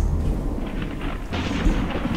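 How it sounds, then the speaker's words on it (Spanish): Thunder from a storm over an abandoned rural hacienda rolls as a loud, continuous low rumble, heavy and unbroken throughout with no voices. "Y lo que escuchamos son truenos."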